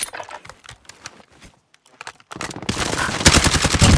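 Call of Duty: Warzone gunfire, a battle royale shooter: scattered shots early, a brief lull, then a loud sustained burst of rapid automatic fire dominating the second half.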